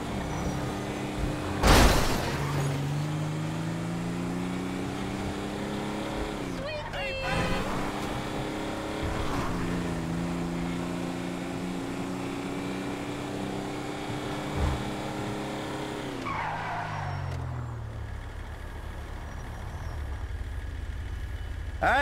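A car engine hums and revs steadily in Grand Theft Auto 5, its pitch shifting up and down through gear changes over a long stretch, with a couple of sharp knocks and a fading drop near the end.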